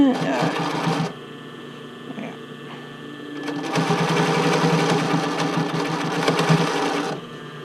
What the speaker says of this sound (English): I probably shouldn't have gone for a back stitch